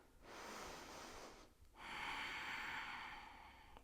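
A deep yoga breath: a long airy exhale through the nose, a brief pause, then a second, stronger breath, close and alone in a quiet room.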